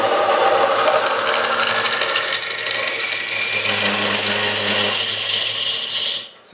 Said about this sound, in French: Et je vais faire ma passe tirée avec la gouge.